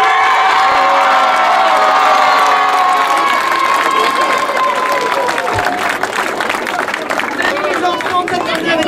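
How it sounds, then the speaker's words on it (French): Loud crowd cheering and applauding for boxer Tony Yoka at a public appearance with children present, a sustained wall of clapping, shouts and whoops that fills the whole stretch, with voices calling out throughout. "Applaudissez-le."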